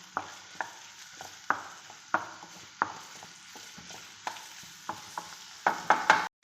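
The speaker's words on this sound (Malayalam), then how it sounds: "ഇനി ഇതിലേക്ക് തക്കാളി ഇട്ട് കൊടുക്കാം. ഇത് നല്ലോണം ഇളക്കി കൊടുക്കാം." A spoon stirs tomatoes in oil in a pan for Indian-style macaroni pasta, giving irregular scraping knocks against the pan over a soft sizzle. The knocks grow denser and louder near the end.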